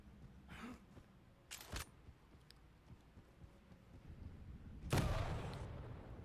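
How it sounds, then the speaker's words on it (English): A player rocket jumps in the video game Quake Champions during a competitive tournament match. Faint, sharp rocket blasts sound at a distance, with a stronger explosion near the end, over quiet game ambience. "Rocket jumping around here."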